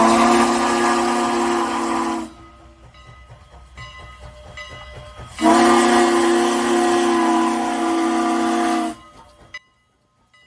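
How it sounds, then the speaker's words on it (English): Strasburg 89, a steam locomotive fitted with an Illinois Central three-chime whistle, sounds two long, deep steamboat-like blasts, each about three seconds, with a hissy quieter gap between them. The whistle is loud and near. "this time it was wearing an Illinois Central 3 chime, which is a very deep whistle reminiscent of a steamboat"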